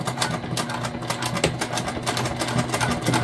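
A sewing machine top stitches a jelly vinyl hip bag, its needle chattering in a fast, steady rhythm close up, with a few brief hitches as the work is guided around a curve.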